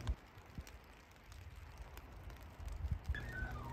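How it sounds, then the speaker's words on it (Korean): Light spring rain falls outdoors on a field being covered with plastic mulch for taro planting, a faint steady patter and hiss with scattered soft drops, quiet and distant, no talking. "지금 비가 버슬버슬버슬 오는 소리가 들리지 않습니까?"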